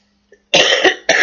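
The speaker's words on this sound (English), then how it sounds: "I'm so sorry about the coughing." A person coughs twice, loud and close: a long harsh cough, then a shorter one after a brief pause, in an otherwise quiet room.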